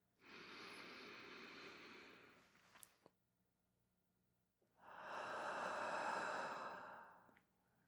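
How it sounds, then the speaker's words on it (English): Two slow, deep breaths close to the ear, a long airy exhale followed after a pause by a fuller, louder breath, soft and unhurried with a faint click between them. "Just take a breath with me."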